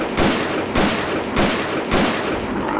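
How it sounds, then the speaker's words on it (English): Gunfire in the video game Soldiers of Anarchy: four loud, evenly spaced bursts of shots ring out over a steady background din, with no talk. "Oh boy, here he comes. Shoot him, boys."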